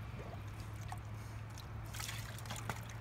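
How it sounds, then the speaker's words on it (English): Water trickles and splashes as a pump pushes it out through a tube in a homemade hydrodynamic setup, faint irregular dribbling over a low steady hum. "it starts pumping water again"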